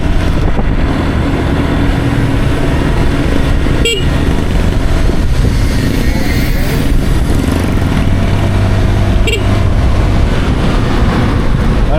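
A motorcycle horn honks twice in short toots several seconds apart over a constant loud engine and traffic drone.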